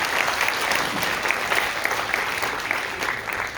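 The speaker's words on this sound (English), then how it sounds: "give a round of applause for Thomas" A round of applause from an audience for a speaker at a university entrepreneurship showcase, dense and loud clapping that stays sustained and even for the whole stretch.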